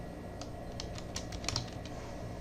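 A computer keyboard is typed on in a few quick, soft clicks of separate keystrokes, close and fairly quiet over a low room hum.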